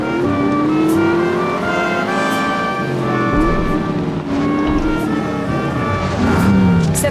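Car engine from the 2009 video game The Saboteur, droning steadily with rising and falling revs as the car drives, loud and continuous throughout with a faint tire squeal near the end.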